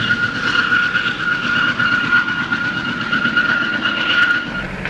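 Indian Railways train running steadily on the rails between Matli Durga and Ketoalli, a continuous loud rumble of wheels with a sustained high metallic squeal riding over it throughout, no voices.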